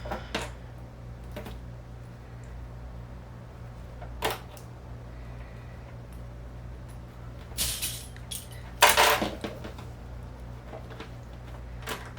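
Small sewing clips snapped onto basted zipper tape while making a sling bag, giving a few sharp, quiet clicks spaced seconds apart, with a brief louder rustling burst near the end against a faint steady hum.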